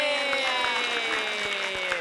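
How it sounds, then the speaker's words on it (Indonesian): A studio audience on a comedy TV show applauds for the performers, a steady wash of clapping under a sustained musical tone with faint rhythmic beats. "tepuk tangan untuk Mas Tese, Mbak Nunung, dan Mas Kadir"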